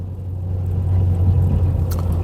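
A Toyota with an MMT semi-automatic gearbox rolls along in second gear, its engine a low steady rumble with faint road noise inside the cabin, briefly and without talk.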